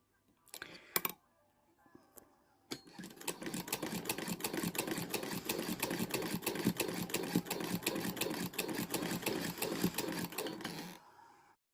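A sewing machine runs a straight stitch through patchwork quilt fabric, with a few short starts followed by a long, steady, rapid needle chatter held for about eight seconds before it stops, close and alone with no talking.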